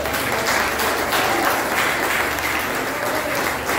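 A church congregation applauding at an Easter service, a steady, dense clapping that fills the room evenly from start to finish with no speech over it.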